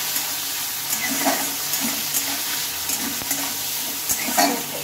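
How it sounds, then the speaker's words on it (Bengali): Tomato and green chillies being stirred in hot oil with black cumin, a continuous sizzle with scraping spoon strokes and a couple of sharp knocks against the pan, close and fairly loud with no talking. "সামান্য একটু আমি নেড়ে চেড়ে নিয়েছি, মানে শুধু জাস্ট তেলের ওপরে আমি দিয়ে নিয়েছি"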